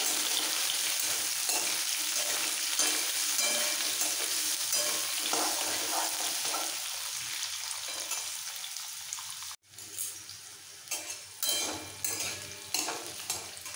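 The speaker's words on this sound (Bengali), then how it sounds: "কুমড়োটা আগে একটু তেলে নেড়ে নেবো।" Pumpkin pieces frying in oil with a steady loud sizzle and stirring scrapes, briefly cut off and then resuming as intermittent clinks and spatters of a spoon against the pan.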